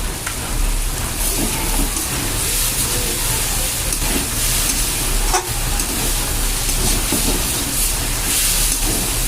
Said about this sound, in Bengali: এবারে আমি কিন্তু এই ডাটিগুলোকে দিয়ে দেবো